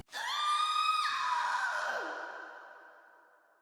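A witch in a dark castle video game gives a long, high, wavering scream as she vanishes. It is loud and alone, holds briefly, then slides down and fades away.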